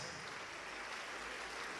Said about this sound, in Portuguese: Vamos aplaudir mais, igreja.